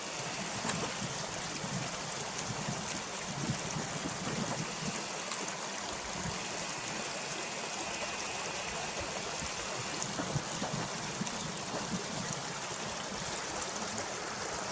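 A small Scottish burn rushes beneath a little wooden bridge, a constant broad hiss of flowing water that stays steady throughout with no voices.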